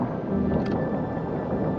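Wind rumbles and buffets against the microphone in a steady low roar while out on a kayak, with no other distinct sounds.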